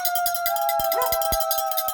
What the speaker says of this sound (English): It's the Howl at 8 p.m.